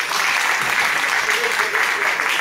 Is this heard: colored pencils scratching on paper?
no